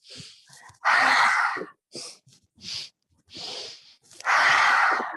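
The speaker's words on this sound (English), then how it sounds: "3 little inhales and 1 big out." Yoga breathing sounds close to the microphone: short sharp sniffing inhales in quick succession, followed by long, forceful, breathy exhales, repeated in an uneven rhythm with silent gaps between breaths and no talking.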